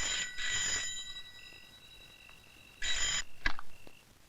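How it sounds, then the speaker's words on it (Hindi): A telephone ringing indoors with two bright, metallic bell rings separated by a pause, close and clear, followed by a sharp click. "ले आ गया तेरे बाप का फोन"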